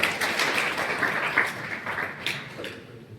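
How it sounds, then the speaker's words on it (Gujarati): An audience at a gathering applauding, a dense, sustained wash of many hands clapping at once that carries on steadily and tapers slightly toward the end. "તો આપણે એમને તાળીઓ આપીએ"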